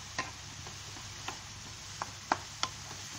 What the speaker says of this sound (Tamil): இது மேலேயே கொஞ்சமாக கருவேப்பிலை சேர்த்து இதை நல்லா மிக்ஸ் பண்ணி விட்டுடலாம்.